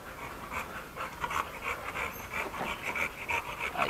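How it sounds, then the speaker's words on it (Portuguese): A Doberman dog panting rapidly in quick rhythmic breaths, mixed with soft high whines, close and fairly quiet. "O Doberman tá reclamando."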